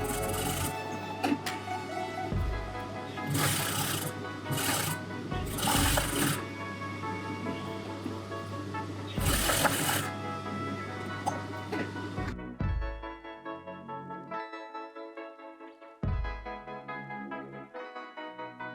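A sewing machine stitches a seam into a small crease of a wrap dress, running in quick rhythmic bursts with brief pauses. The motor hum and needle clatter stay close and clear throughout.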